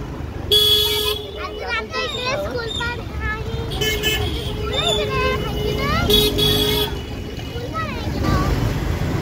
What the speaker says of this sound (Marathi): ट्रॅफिक भरपूर झाला इथे बेकार ट्रॅफिक आहे